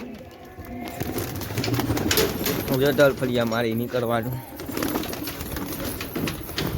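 Flying pigeons in training coo in a rolling, repeated murmur, loudest midway through, while a person talks over them about releasing and feeding them.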